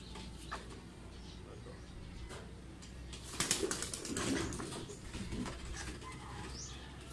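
Pigeons in a loft give soft low cooing and rustling, with a brief flurry of flapping wings midway; faint, close-by, no talk.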